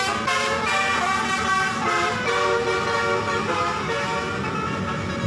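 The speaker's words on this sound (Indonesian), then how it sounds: "Namun suasana jalan dihiasi dengan lirik suara klakson telolet bus dari kejauhan." Bus telolet horns at an Indonesian roadside play repeated melodic toots from a convoy of passing buses, over steady traffic rumble.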